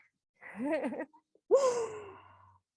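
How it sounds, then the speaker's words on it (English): Slow, deep breathing during a guided yoga session: a long, drawn-in inhale followed after a short pause by a fuller, sighing exhale that trails away, close and soft. "One more big inhale. Exhale it out."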